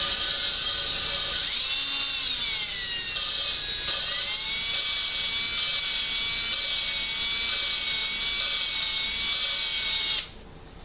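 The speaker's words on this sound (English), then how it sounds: "I put the drill in there on low speed" A power drill running steadily at low speed while cleaning engine valves on a 1968 Camaro build, giving a loud continuous high whine with a slight pitch dip near the start. It cuts off abruptly just before the end.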